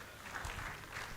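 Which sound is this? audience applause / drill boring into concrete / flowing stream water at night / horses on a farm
audience applause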